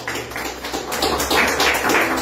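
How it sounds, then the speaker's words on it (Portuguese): A church congregation claps together in worship, a dense, close burst of many hands building slightly in loudness and continuing steadily throughout. "Você pode dar uma salva de palmas para o nosso Deus?"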